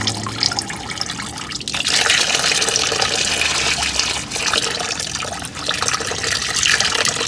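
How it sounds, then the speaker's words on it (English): Engine coolant pours from a disconnected hose into a catch pan during thermostat replacement on a 1997 Subaru Outback 2.5L, a steady, close splashing and trickling of liquid that runs continuously with no talking. "you want to turn it towards your catch pan and drain all the coolant out of that hose."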